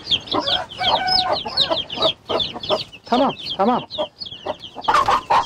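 A broody hen in a coop clucking agitatedly, with loud, close, repeated bursts of clucks and squawks in an uneven rhythm while someone speaks between them.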